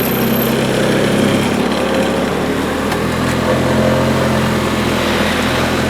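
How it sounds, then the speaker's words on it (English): A 1993 Honda 4514 hydrostatic garden tractor runs with its PTO engaged, the small engine droning loud and close in a steady, continuous hum with a slight shift in pitch partway through. "I'll demonstrate the PTO for you."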